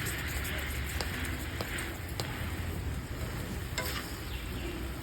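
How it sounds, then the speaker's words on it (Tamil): Butter bun soaking in milk, sugar and butter on a hot pan gives a steady, close sizzle with a few soft clicks of a utensil, with no talking. "நல்லா அது அப்படியே சிசில் ஆகி பன்னுக்குள்ளே அந்த மில்க்கு, அந்த சுகர், பட்டர் எல்லாம் அப்சர்வ் ஆகும்."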